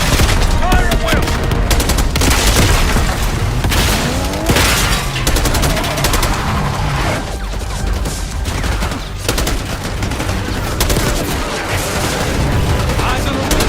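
Gunfire in the Black Ops 6 video game, dense continuous rifle and machine-gun bursts with booming impacts throughout, loud and chaotic, with shouted voices mixed in.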